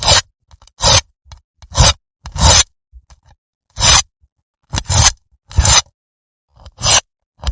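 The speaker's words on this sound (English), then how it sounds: "Let's cut vegetables first to cook a primitive food." Knife slicing vegetables outdoors for primitive cooking by a riverbank, a series of short scraping cuts close by, irregular bursts separated by brief silences, with no voices.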